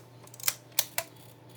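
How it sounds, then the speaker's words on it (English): A Yashica Lynx-1000 leaf shutter fires at a slow speed in a quiet room, giving a few soft clicks and then two crisp snaps about a third of a second apart. "Old leaf shutters do tend to get a little bit sticky on the slow shutter speeds."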